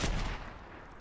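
A single gunshot in Fortnite gameplay cracks sharply at the start and then fades into a brief rumbling tail, fairly quiet overall with no talk.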